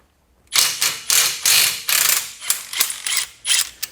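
A mid-torque impact wrench rattles on brake hardware of an ND2 Mazda Miata during a brake cooling kit install, several loud close hammering bursts in quick succession with short pauses between.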